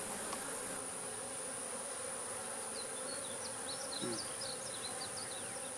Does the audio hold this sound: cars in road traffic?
no